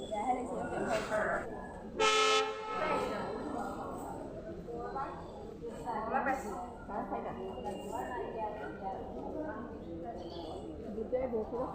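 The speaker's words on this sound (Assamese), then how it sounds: "ট্ৰেইন আহি আছে" An approaching train gives one loud, clear horn blast near the start, then people talk over a busy station platform with rumbling and clattering in the background.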